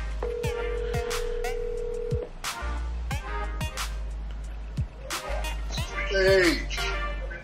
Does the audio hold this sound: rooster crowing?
no